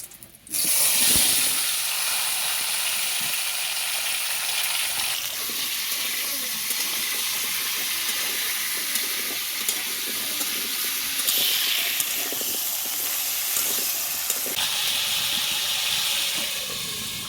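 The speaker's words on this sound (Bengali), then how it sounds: "আলুটা ভাজছি" Potato pieces fry in hot oil on a home stove, giving a continuous, even sizzling hiss that stays steady and fairly close throughout, with no talking.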